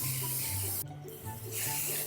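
Hot Shot hold hairspray sprayed onto hair from an aerosol can, two loud, close hissing bursts split by a short pause, with no talking.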